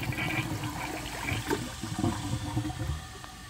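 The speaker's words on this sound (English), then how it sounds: "it's not going to pass no matter how many times I flush it." A 2007 Kohler Highline Ingenium toilet flushes with a close, gushing swirl of water that keeps rushing and gurgling steadily throughout, with no voices.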